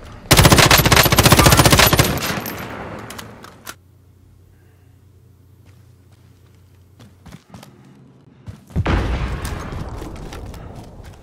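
Rapid automatic gunfire in Call of Duty Warzone hammers out in a loud close burst, fades to near quiet, then a second burst of firing erupts near the end.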